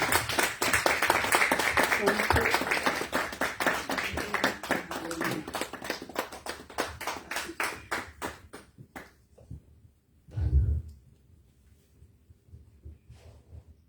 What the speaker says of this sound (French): Alors, sous vos applaudissements, aidez-moi à accueillir le pasteur Jamil.